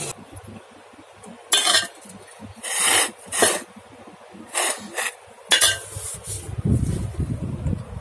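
A spoon stirs a village-style curry of small fish in a cooking pot, making scattered metallic clinks and scrapes at an uneven pace against a quiet background.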